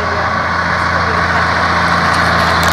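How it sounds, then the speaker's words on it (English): A lorry carrying pipe rumbles past close by with a steady, loud engine drone and road noise that holds evenly throughout, no talking over it. "This is the pipe lorry."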